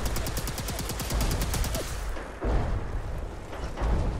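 Gunfire in Fallout 4: a rapid burst of regularly spaced shots for about two seconds, followed by a few heavier, more spaced reports, loud and close with no talk.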